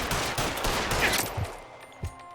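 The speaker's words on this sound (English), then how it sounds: "apparently I'm taking fire" Gunfire in the video game LA Noire, a rapid fusillade of overlapping shots with heavy low thumps, loud and continuous before easing off near the end.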